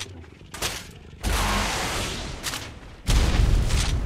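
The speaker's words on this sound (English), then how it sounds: "I'll shoot it with an RPG." RPG fired at a base in the game Ark, with loud booming blasts: a smaller hit, then a sustained roaring burst and a second heavy blast near the end, close and loud with no talk.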